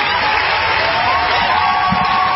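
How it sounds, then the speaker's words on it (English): Canned round of applause and cheering played on a radio talk show, a steady dense wash of crowd clapping running the full length at even loudness. "We're dialing in a round of applause for you, buddy"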